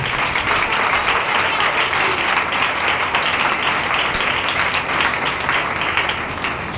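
A church congregation at a Sunday service claps loudly and continuously, a dense, sustained wash of many hands filling the room.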